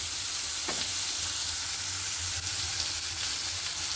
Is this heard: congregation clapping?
no